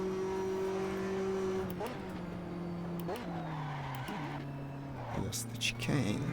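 A voice imitates the whoosh of DRS on a racing car in the Assetto Corsa sim, making a steady hum whose pitch drops in steps, with engine and tire noise from the game running underneath.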